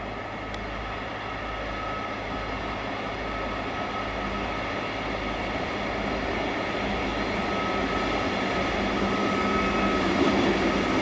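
Trains arriving on a rail line, a steady low rumble of wheels and rolling stock that swells gradually, with a faint high squeal near the end.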